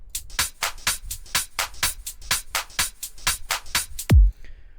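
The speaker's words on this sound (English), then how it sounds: "top loop sample pack, which top loops sound like this" A crisp percussion loop of ticking hats and shakers plays in a steady, busy rhythm, ending with a single deep booming hit.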